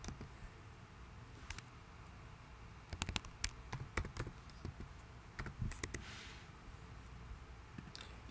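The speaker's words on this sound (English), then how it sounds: "I'm going to go in and type in cardiovascular." Computer keyboard typing in short bursts of quick clicks, with brief pauses between the clusters of keystrokes, close and moderately quiet against a low background hum.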